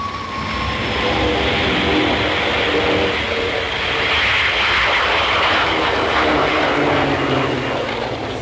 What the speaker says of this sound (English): this was an incredibly fast aircraft, twin jets, and it had a top speed of 540 miles per hour